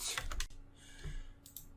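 A command is typed on a computer keyboard: a quick cluster of close key clicks, then a pause and a few more taps near the end, quiet with no voices.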